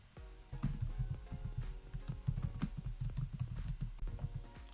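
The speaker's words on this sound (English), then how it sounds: "I bet you guys can hear me typing." Rapid, uneven clatter of keys on a computer keyboard, close and fairly loud, with clustered keystrokes running steadily throughout and no voice.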